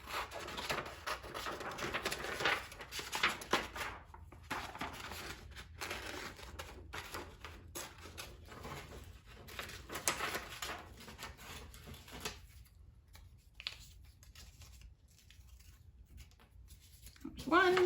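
Scissors snip out small paper cylinder shapes close by, a continuous soft crisp cutting and rustle with brief pauses and a louder handling rustle at the end.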